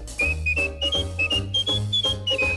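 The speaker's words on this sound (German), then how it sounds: "Pfeife weiter, Johanna, denn Pfeifen macht Spaß." A melodic whistled tune from a 1961 schlager song, short phrases repeated in a bouncy rhythm over a band accompaniment, clear and prominent with no singing in this stretch.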